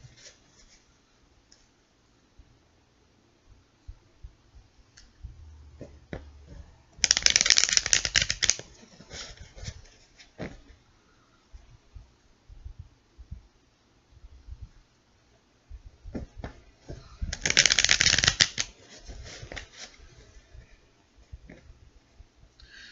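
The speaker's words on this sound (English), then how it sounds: "Alright, so I think we have about 3 more shuffles." Two bursts of rapid card shuffling, a riffle crackling for about two seconds each, separated by quiet handling clicks and shuffling.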